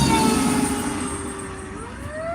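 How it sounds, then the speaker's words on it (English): A fire truck siren wails past a car on a state route, a loud sustained tone that slides downward as the vehicle moves away, heard from inside the car. "Now the fire truck went by."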